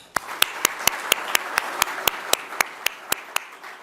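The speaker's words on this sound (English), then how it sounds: "Join me in giving her a round of applause." Rhythmic, evenly spaced claps ring out at a government event with the New York governor in Western New York, sharp and regular over a soft room murmur, like a few hands or a small group clapping in time.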